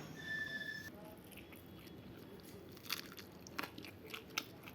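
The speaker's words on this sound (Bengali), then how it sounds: "শুরু করি খাওয়া, দেখা যাক কি হয় ঠাকুরের দয়ায়।" Close chewing and crunching on a home meal of rice, vegetables, omelette and green chili, with a few soft bites and crackly chews over a quiet background.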